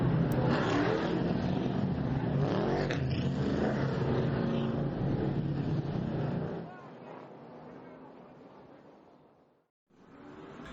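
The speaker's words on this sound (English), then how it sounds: "the drivers are off and running, getting their hot laps in" Race cars run hot laps at a speedway, a loud continuous engine roar that fades and drops away near the end, with a commentator talking over it.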